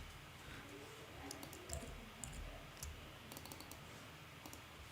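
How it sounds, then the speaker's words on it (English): Fingers type quickly on a computer keyboard in quick, irregular bursts of crisp clicks over a quiet room, with no talking. "Oh, typing too fast."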